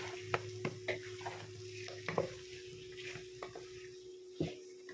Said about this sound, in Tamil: இப்போ இதை எல்லாத்தையுமே போட்டு கலந்து விட்டுருவோம்